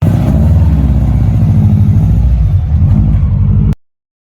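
A 2004 Subaru Impreza WRX STI boxer engine revs loud and close with a steady, throaty rumble for nearly four seconds before cutting off abruptly.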